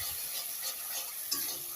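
A spoon scrapes and stirs egg curry in a hot pan as it is sautéed, with a soft, steady sizzle and brief rubbing strokes, quiet and close, with no talking.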